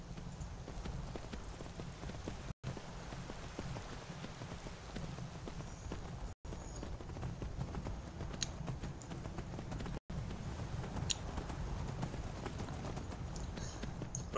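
Horse hooves in the video game Skyrim clop at a steady, even gallop, fairly quiet and continuous over a low background, with a few brief dropouts.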